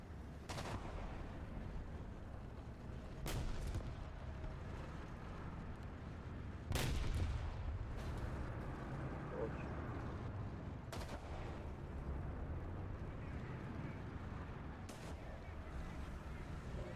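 In a tank video game, anti-aircraft guns and a main tank cannon fire amid battle noise: several sharp, distant-sounding booms spaced seconds apart over a steady rumbling background, with one heavier blast partway through.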